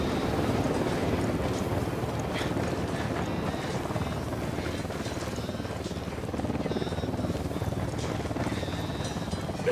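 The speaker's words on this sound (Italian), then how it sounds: "Elicottero dell'unità De Jove." Helicopter from the video game Ghost Recon Wildlands, a steady broadband rotor roar that holds at an even level for the whole stretch with no speech over it.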